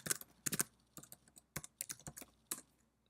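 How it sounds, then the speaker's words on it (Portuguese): Computer keyboard typing in a quiet room, a series of close, crisp key clicks in uneven bursts with short pauses between them, no voices. "Então, nós vamos digitar aqui"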